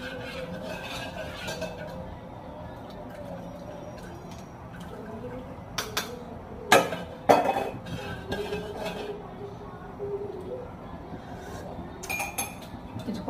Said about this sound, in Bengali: চাটা ছেঁকে নিলাম